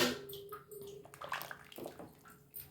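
Water poured into rice in a cooking pot, a soft splashing trickle that comes in short uneven gushes, close and fairly quiet.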